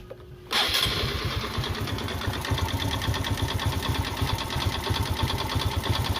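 A fuel-injected Honda Supra X 125 motorcycle, around a 2019 model with an engine fault, starts up after a quiet moment and settles into a close, rapid idle with a persistent ticking, knocking rattle; no one speaks.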